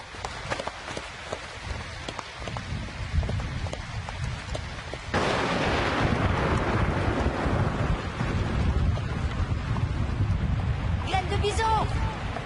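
Cartoon thunderstorm: heavy rain pours steadily while thunder rumbles, and the downpour grows louder and denser halfway through, with a brief voice-like sound near the end.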